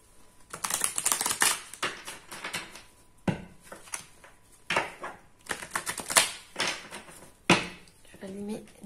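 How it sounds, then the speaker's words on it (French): A deck of oracle or tarot cards is shuffled in repeated quick, crisp riffling bursts close by, with short pauses between them and some soft handling noise. "On me dit de brasser encore."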